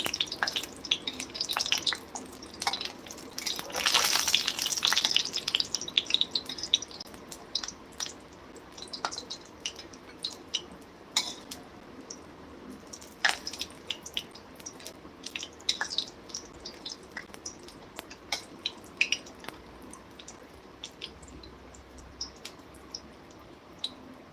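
Lentil dumplings (bori) fry in a pan for a bottle gourd stem and potato chachchari, giving a steady close sizzle with scattered crackles and pops that swell briefly early on, then settle into a softer, even hiss.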